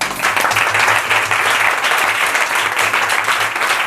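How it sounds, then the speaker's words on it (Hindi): A church congregation claps and applauds steadily for God, a dense, continuous wash of many hands at moderate distance with no pauses. "तो परमेश्वर के लिए ताली बजाएंगे।"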